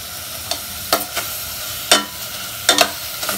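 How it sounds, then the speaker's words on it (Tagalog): Pork for adobo is stirred in a frying pan while it browns. A steady close sizzle is broken by several sharp scraping strokes of the spoon against the pan, with no voices. "halo-haloin po muna hanggang po mag-brown"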